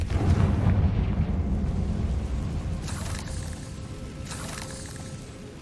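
A fiery Confringo spell explosion in the video game Hogwarts Legacy, a loud, rumbling blast that rolls on and slowly fades over several seconds, with a couple of brighter crackling bursts layered on top.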